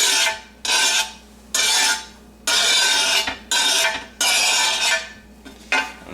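A utensil scraping vanilla bean pulp off a pan into a pot, seven rough rasping strokes of about half a second each separated by short pauses, close and clear with no talk.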